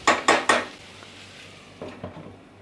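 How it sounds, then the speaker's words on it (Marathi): A lid set down on a cooking pot after sautéing makes three quick, close metallic clanks in succession, then two softer clinks follow after a pause. "आता परतून झाल्याच्या नंतर यावरती आपल्याला झाकण ठेवायचं आहे"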